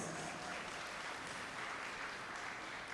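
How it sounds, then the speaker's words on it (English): Steady applause from a convocation audience, continuous and even throughout, heard at moderate distance with no voices over it. "Please give them a round of applause."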